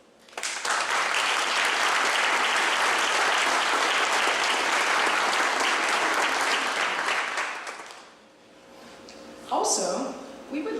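Loud, sustained audience applause at an alumni awards ceremony, a dense wash of clapping lasting about eight seconds before fading, followed by a brief burst of voices.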